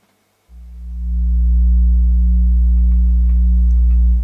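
A Fenix 2 modular synthesizer sends a phaser patch with feedback through a mixer. After a brief silence, a deep, droning low tone swells in and holds steady with a slowly sweeping, resonant shimmer, and nobody speaks.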